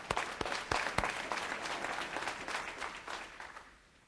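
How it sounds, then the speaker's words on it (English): Audience at a nonprofit board leadership talk breaking into applause, a few sharp early claps swelling into a broad, even patter that thins and fades toward the end, recorded at a low level. "Stand up and give this man a round of applause."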